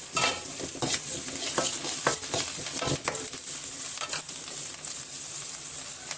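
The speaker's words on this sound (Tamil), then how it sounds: "தட்டி வச்சுருக்கிற பத்து பல் பூண்டையும் இது கூட சேர்த்து வதக்கிக்கலாம்" Onion and crushed garlic cloves sautéing together in a pan while being stirred, giving a steady, close sizzle with scraping strokes of a spoon and occasional clinks against the metal pan, without any talking.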